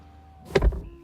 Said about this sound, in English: Let's shut out the outside world with closing the door.